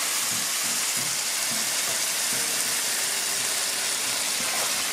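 Guajillo chile sauce poured into a hot pan over browned pork loin hisses and sizzles in a loud, steady wash of frying noise, continuous and close with faint bubbling underneath.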